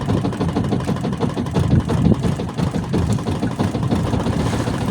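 A loud, rumbling boat engine chugs steadily up close on a night fishing trip, its low throbbing pulse constant throughout.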